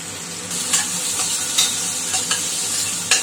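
Onions frying in oil and ghee for a South Indian tomato kurma, a continuous close sizzle with several sharp scrapes and clatters of a spatula against the pan, loud and without talk.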